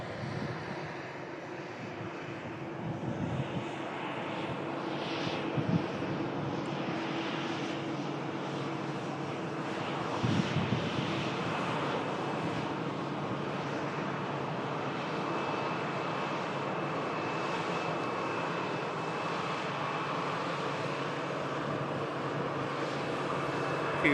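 An Airbus A321 airliner comes in to land, its engines a broad sustained roar that holds fairly even with slight swells over a long stretch, heard from a distance with no talking.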